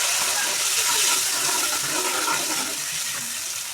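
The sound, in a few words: water added to prawn curry in pan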